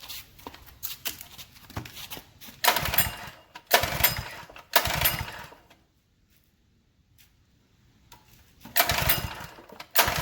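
A Generac power washer's engine is pulled over in several short bursts, followed by a pause and a final attempt, none of which catch into a steady run; each attempt is loud and close.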